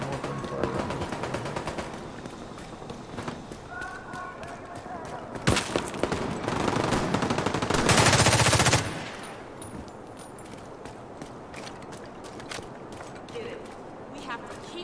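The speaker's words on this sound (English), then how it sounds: "Sounds like there's more gunfire around this corner." Gunfire rattles through combat in The Division 2's New York City expansion, with scattered bursts and a loud, dense volley partway through, set against constant game ambience.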